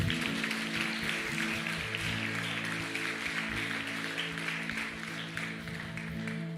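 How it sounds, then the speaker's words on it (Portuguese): Church congregation clapping for Jesus during a sermon, a soft continuous patter of applause over a sustained musical drone, moderately distant. "Aleluia, uma salva de palmas para Jesus, amém?"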